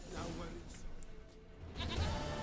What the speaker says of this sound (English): Itt a kecskét, barátom.